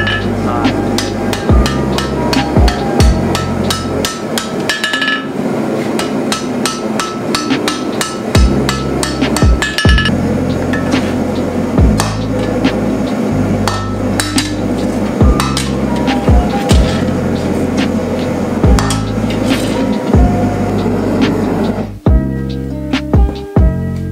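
A hammer forges bevels into a hot sword blade, striking in loud, close bursts of rapid, regular blows broken by short pauses, with metallic ringing between strikes.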